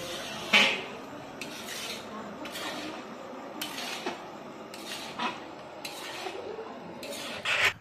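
Ginger paste is stirred into desi chicken in a cooking pot, village style: a spoon scrapes and rubs along the pot in repeated strokes, with a few sharper clinks against the metal.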